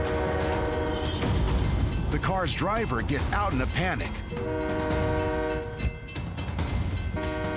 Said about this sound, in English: The train is just seconds away